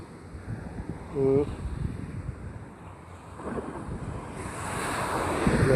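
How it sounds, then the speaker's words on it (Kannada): Ocean waves roll and crash steadily onto Manjeshwar beach with a broad, rushing roar and gusty wind on the microphone; a voice speaks briefly. "ಅಲೆಗಳು ಬರುವಂತಹ ಒಂದು ರಭಸ ನೋಡಿ, ರಭಸ"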